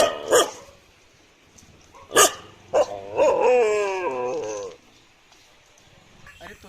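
A nearby dog gives three sharp, loud barks, then a drawn-out whining yelp that wavers in pitch before fading out, with a faint sound at the very end.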